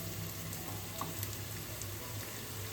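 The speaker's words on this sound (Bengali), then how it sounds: "এদিকে পেঁয়াজটা আমাদের খুব ভালোভাবে ভাজা হয়ে গেছে" Onions frying in oil until golden, a steady, soft, even sizzle throughout with faint stirring and no voices.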